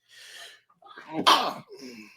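A single sharp human sneeze, close and loud, with a short inhaled gasp beforehand and faint voice sounds around it.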